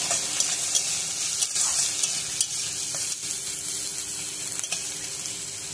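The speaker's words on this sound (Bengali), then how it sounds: "পেঁয়াজ আর রসুনটা লাল লাল করে ভাজা করে নেব।" Close, steady sizzling of chopped onion and garlic frying in oil, punctuated by intermittent spatula scrapes and small clicks against the pan, with no one speaking.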